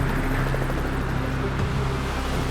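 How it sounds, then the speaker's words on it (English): A Navy rescue helicopter's engine and rotors make a constant, heavy droning roar at a container ship disaster at sea, filling the whole moment without voices. "A Navy helicopter arrives next"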